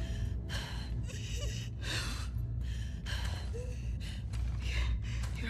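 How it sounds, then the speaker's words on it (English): Labored, gasping breaths from a wounded character in The Last of Us Part 2, repeated heavy inhales and sighs up close over a low background rumble. "Your breathing's worse."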